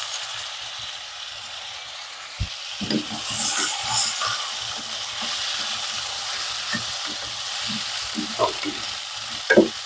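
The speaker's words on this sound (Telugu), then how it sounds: "ఆలుగడ్డ కొంచెం సేపు వేగితే సరిపోతుందండి ఫ్లేమ్ హైలో పెట్టాను" Potato pieces with turmeric fry over a high flame for a masala potato curry: quiet at first, then a loud, steady sizzle rises and keeps going, with scattered stirring clicks and a sharp clatter near the end.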